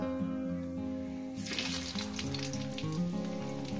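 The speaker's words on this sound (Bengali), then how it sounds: "দিয়ে দেবো একটু জিরে ফোড়ন, কয়েক সেকেন্ড জিরেটাকে ভেজে নেব, ফ্রাই করে নেব। আর দিয়ে দেবো এর মধ্যে আলু।" Cumin seeds and potatoes frying in hot oil, a sudden loud crackling sizzle bursting in after a quiet start and continuing close up under soft background music.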